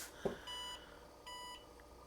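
Two short electronic beeps, evenly spaced and fairly quiet, each a steady high tone lasting about a third of a second, preceded by a faint click.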